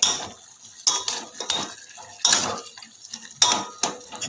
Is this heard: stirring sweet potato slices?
yes